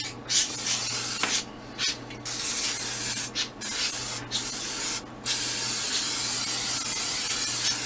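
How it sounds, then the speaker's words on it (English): Several short bursts of cooking oil spray hiss close by onto a pan, with brief pauses between them, followed by one longer continuous spray. "we want to spray the pan with a little bit of cooking oil"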